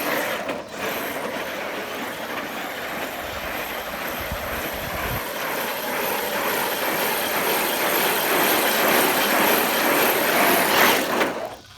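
An Arrma Kraton EXB roller RC car with a locked rear differential spins doughnuts outdoors near a street, its electric motor whining loud and continuous, with tire scrub swelling throughout and no talking.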